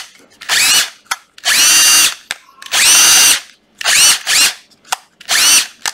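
Bosch cordless drill running in bursts with a 13 mm chuck, five loud near whirring runs of varying length separated by short pauses.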